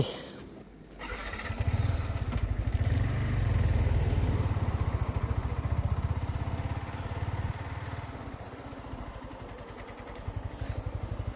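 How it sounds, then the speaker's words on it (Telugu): A motorcycle engine runs steadily just after being started, a loud, close, continuous idle with an even low throb holding through the whole stretch at night. "ఇంజన్ ఇప్పుడే స్టార్ట్ చేసాం, చెక్ చేసుకోవాలి అప్పుడప్పుడు."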